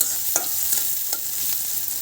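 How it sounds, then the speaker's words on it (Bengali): Onions sizzling loudly in hot oil in a pan for a pangas fish curry, with a constant crackling hiss and about four quick spoon scrapes spaced evenly across it. "পেঁয়াজ ভাজা হচ্ছে"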